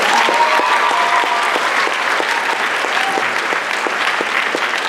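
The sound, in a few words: applause at a senior awards ceremony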